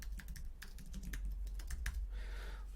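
Quiet, steady typing on a computer keyboard, a quick run of light key clicks entering a property address, followed by a brief softer rustle at the end.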